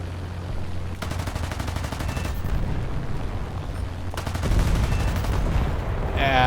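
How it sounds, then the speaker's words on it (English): Machine guns of a P-40 WWII fighter plane in a video game strafing a ground gun crew, firing in two sustained rapid bursts separated by a short pause, loud and close. "I'm gonna shoot at this gun crew."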